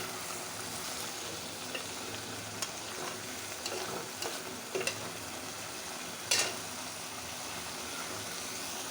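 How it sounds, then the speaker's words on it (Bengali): Pabda fish curry with drumstick vegetables is stirred in a pan, giving a soft, steady sizzle with occasional scraping and clinking of the spoon against the pan. "এখন ঢাকনাটা উঠিয়ে দিয়ে এরকম নেড়ে চেড়ে নেবো"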